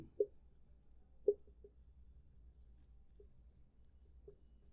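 Marker on a classroom board during a history lesson gives faint, sparse taps and short strokes as words are written in a different colour, quiet and close with no talk.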